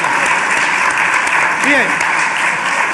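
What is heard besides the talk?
applause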